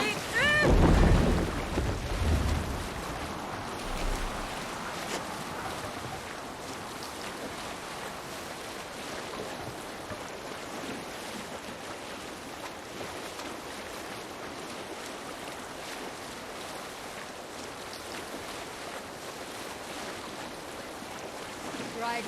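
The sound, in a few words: longship sailing through waves in Assassin's Creed Valhalla video game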